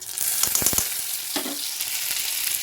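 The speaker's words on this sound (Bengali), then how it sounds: "তো আমি বেশিক্ষণ ভাজবো না কি অল্প একটু ভাজবো" A paste of ginger, cumin and a small dried chili sizzles in hot oil with paneer and spices: a steady close hiss of frying with a few sharp stirring clicks early on, no voices.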